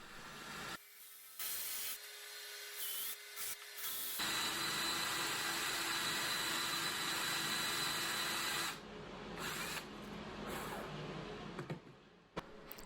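Steel chisel paring a flat spot on a wooden side-table pedestal: close, steady rasping and scraping strokes, mostly continuous with a few brief pauses near the start and end, with no talking.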